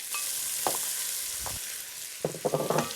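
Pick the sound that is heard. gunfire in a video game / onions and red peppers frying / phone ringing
onions and red peppers frying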